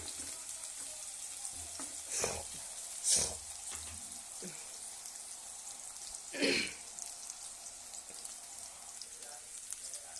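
Masala rice mixture frying and roasting in a pan, a quiet continuous sizzle broken by a few brief scraping stirs and clatters.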